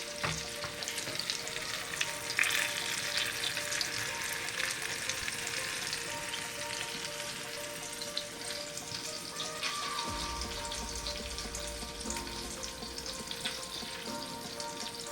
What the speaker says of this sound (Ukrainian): Гарненько притрусили борошно і ставимо обсмажувати на сковорідку.